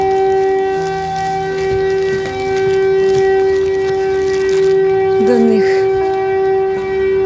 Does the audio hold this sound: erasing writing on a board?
no